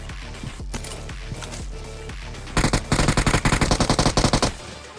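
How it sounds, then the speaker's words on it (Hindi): Rapid bursts of automatic gunfire in BGMI (PUBG Mobile), several quick volleys in a rhythmic string over a steady game soundtrack. "अब इस पोरे ने पहले मेरे ऊपर गोली चलाई"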